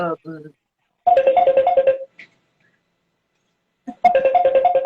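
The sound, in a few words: mobile phone ringtone during a live stream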